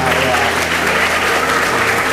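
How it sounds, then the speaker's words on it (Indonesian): Loud, dense applause from an audience at a church gathering with children, many hands clapping close together in a continuous roar that holds steady throughout. "Tepuk tangan dulu untuk kita semua."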